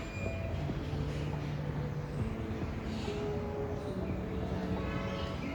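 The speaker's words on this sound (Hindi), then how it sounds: "हवा चल रही है" Wind blows through a backyard winter garden around a white vine plant. It makes a steady, rushing roar that fills the whole stretch at an even level, with faint humming tones underneath.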